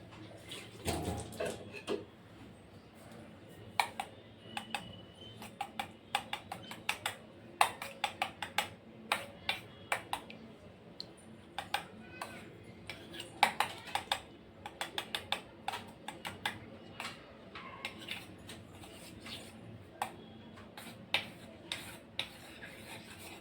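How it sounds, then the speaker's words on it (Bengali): Five eggs are whisked in a bowl, giving quick, irregular light clicks and taps as the utensil strikes the sides. The sound runs steadily at close range and stays fairly quiet, with no talking. "এখানে আমি ডিম পাঁচটা যে ডিম নিয়েছিলাম এটাকে একটু ফেটিয়ে নেব"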